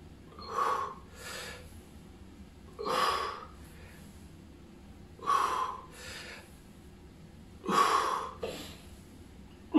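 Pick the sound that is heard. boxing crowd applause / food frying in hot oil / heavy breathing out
heavy breathing out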